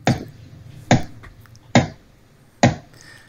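Four sharp, loud clicks sound at an even pace, each with a short ringing tail, with near-silence in the gaps. They count in a rhythm-clapping exercise.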